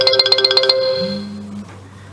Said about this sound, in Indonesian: Ini ada telepon masuk lagi.